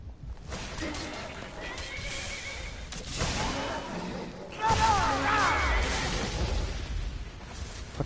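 A horse in Skyrim neighs in the Oblivion realm, with shrill whinnies rising over hoof clops, whooshes and game effects, while a person talks through most of it.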